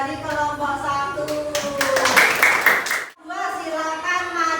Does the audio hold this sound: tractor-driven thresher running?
no